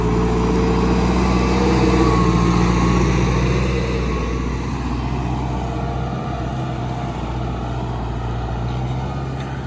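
A Deutz Fahr 5090G tractor pulls a plow across a small field, its engine a steady, loud drone that holds close and even throughout with no voices.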